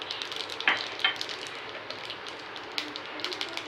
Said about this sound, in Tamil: தாளிக்க வேண்டிய கடுகை ஃபஸ்ட்டில் போட்டுக்குருவோம்